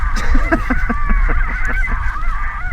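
A large flock of wild geese honks loudly and continuously while working into a field, many overlapping calls in a busy chorus close by, with wind rumbling underneath.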